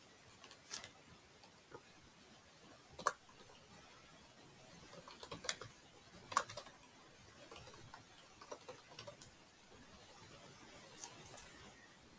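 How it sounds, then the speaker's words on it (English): Light, irregular clicks of typing on a computer keyboard, scattered taps and short bursts at close range in a quiet room, with no talking. "I will type it for you"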